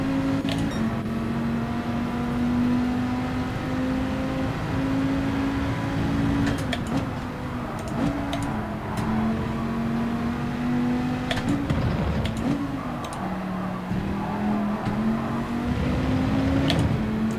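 A Porsche race car engine in Gran Turismo hums at a steady pitch, then drops and wavers as it slows, with brief clicks and other car sounds faintly behind, no talk.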